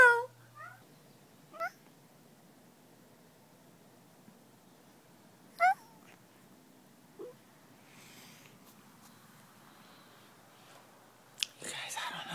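A few short, quiet cat meows spaced several seconds apart, with near silence and faint rustling between them.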